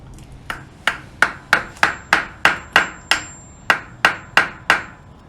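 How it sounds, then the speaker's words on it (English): A hammer taps a selector triangle into a 1980 Honda CB750F engine, with about thirteen sharp, evenly spaced metallic strikes ringing close and loud, no talking. "Insert the selector triangle and tap it in with a hammer."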